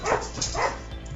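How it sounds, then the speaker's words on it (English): A dog in the video game Ghost Trick: Phantom Detective barks twice in quick succession, loud and close, with no talking over it. "Shut up, dog!"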